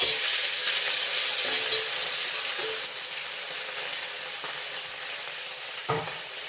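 Greens and nigella seeds hit hot oil in a pan after fried lentil dumplings, giving a steady, close sizzle and frying hiss that fades slightly over time, with a few stirring clicks and no talking.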